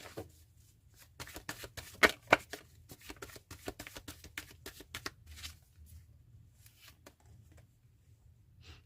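Tarot cards are shuffled by hand in a series of quick, crisp riffles and slaps, close and clear with no talking.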